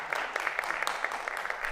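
An audience at a public talk event in Itabira applauds the guests' entrance, a steady wash of many hands clapping at moderate distance, continuous with no voices on top.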